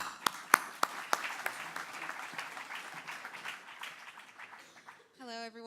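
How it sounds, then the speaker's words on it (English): Audience applause greeting panelists at a crypto regulation conference, opening with a few sharp claps that thin into a soft patter, after which a voice begins speaking near the end. "Please give all our distinguished panelists a round of applause."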